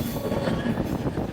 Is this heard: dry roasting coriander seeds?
no